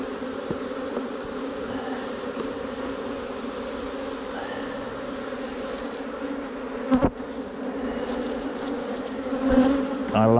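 Honeybees drone in a steady, close hum over an opened nuc hive with a frame lifted out, joined by occasional handling knocks and a brief sharper clatter partway through.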